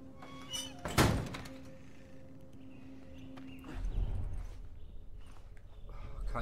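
Door slamming shut in The Last of Us video game, a single loud close thud followed by quieter shuffling and low rumbling ambience.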